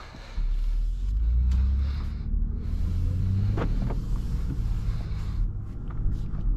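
A 2024 BMW X3 M40i drives on the road, heard from inside as a steady low engine and road rumble with a swell early on and otherwise an even, continuous drone.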